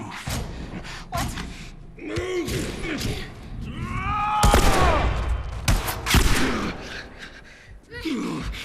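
Scattered gunshots and clattering combat noise in The Last of Us Remastered on Grounded difficulty at the university, mixed with grunts, gasps and character voices throughout.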